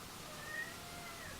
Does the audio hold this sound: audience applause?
no